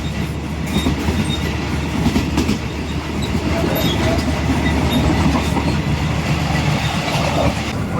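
A passenger train runs on the rails between Bangkok and Hua Hin, heard from inside the carriage as a steady, loud rumble with a rhythmic clickety-clack and occasional faint squeals.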